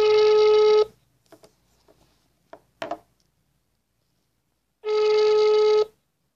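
Phone ringback tone heard over speakerphone during a call: two long electronic rings separated by a quiet gap holding a few faint clicks and small sounds, loud and near.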